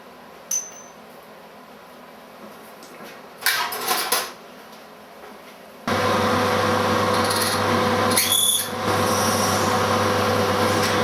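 A reamer works a hole in a metal centre finder punch, with a quiet rasping stretch first and then a steadier, louder grinding scrape alongside a constant hum. There is no speech.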